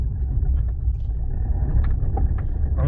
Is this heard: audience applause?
no